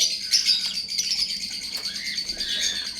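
A breeder pair of blue pastel splitino lovebirds gives bright, high chirps and tweets nearby, continuous and busy over a low background hum.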